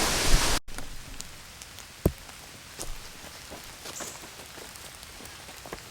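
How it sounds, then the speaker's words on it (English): Rain falls during a storm outdoors in the woods, a steady fine patter on surfaces with scattered louder drops and a sharp knock near the start, fairly close and without voices. "it's still currently raining"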